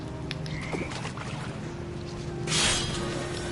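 Toads croak in What Remains of Edith Finch, faint calls set in a steady watery night ambience, with a brief louder rush near the end and no talking.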